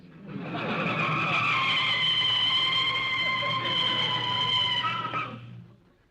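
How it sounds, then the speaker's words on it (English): Car brakes and tires skid in a long, loud screech lasting several seconds before fading out, a sound effect from an old-time radio comedy show with nobody talking over it. "You can start putting on the brakes."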